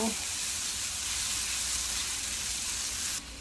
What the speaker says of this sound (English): the vegetables are nicely sizzling